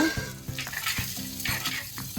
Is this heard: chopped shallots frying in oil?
yes